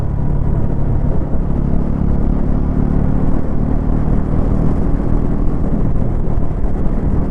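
A 2026 Bajaj Pulsar NS400Z with a 349cc engine cruises at speed in sixth gear, its steady engine drone mixed with loud continuous wind rush, with no pauses throughout.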